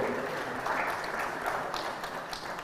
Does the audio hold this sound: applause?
yes